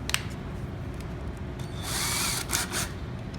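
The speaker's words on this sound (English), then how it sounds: "that'll be enough of a pre-drill for our screw to be able to sit into this" A power drill bores a pilot hole into wood for a screw while a cleat is being attached to table legs. Its whir comes in two short, close bursts over faint background noise.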